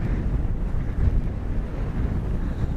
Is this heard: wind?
yes